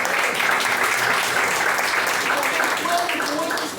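A church congregation claps steadily and loudly during a sermon, a continuous dense wash of applause filling the room.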